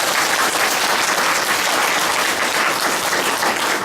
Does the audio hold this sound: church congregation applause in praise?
yes